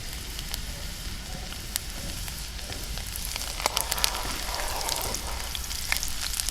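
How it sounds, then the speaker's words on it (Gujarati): Chopped garlic hits hot oil for tempering over a traditional desi clay stove, giving a steady, close, dense sizzle with scattered sharp pops and crackles throughout. "હવે આપણે લસણની કટકી નાખશું વઘાર માટે."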